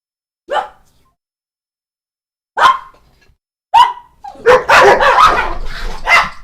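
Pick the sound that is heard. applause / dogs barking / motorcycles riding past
dogs barking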